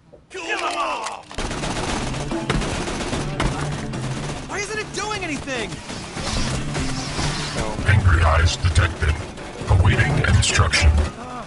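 Rapid gunfire rattles through a scene in the video game Tales from the Borderlands, with bursts of shots and clanks running steadily beneath overlapping character voices.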